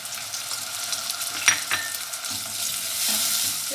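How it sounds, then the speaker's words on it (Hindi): Large tomato added to softened onions frying in a pan, a soft steady sizzle with stirring scrapes and a couple of sharp utensil clinks, close and moderate without talking. "अब मैंने ये एक बड़ा टमाटर लिया है और ये डाल दूँगी"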